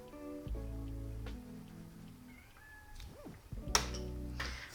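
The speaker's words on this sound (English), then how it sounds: "baby kitties are protesting" Young kittens meow repeatedly in loud, drawn-out protesting cries, close by, with several overlapping calls and a brief tapping sound near the end.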